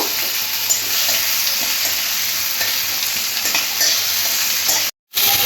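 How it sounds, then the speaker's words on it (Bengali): Onions sizzle and crackle in hot oil while being stirred in a pan for a Bengali chicken curry, a steady close frying hiss with stirring scrapes and a brief cut near the end. "পেঁয়াজটাও তেলের মধ্যে নাড়াচাড়া করে একটু লাল লাল করে ভেজে নেব।"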